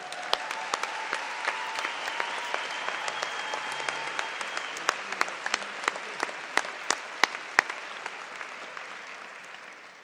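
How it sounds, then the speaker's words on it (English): Applause at a university graduation ceremony for social sciences, a broad steady patter of many hands with distinct sharp claps cutting through near the front, fading slightly toward the end, with a faint tonal sound early on. "je pense que votre doyen mérite aussi une très bonne main d'applaudissements."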